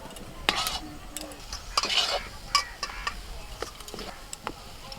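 A wok of green pea kachori filling stirred with a spatula, giving scraping, clinking strokes over a soft sizzle, close and moderately loud with irregular rhythm and no talk.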